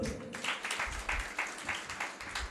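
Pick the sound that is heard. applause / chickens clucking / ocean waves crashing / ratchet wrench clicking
applause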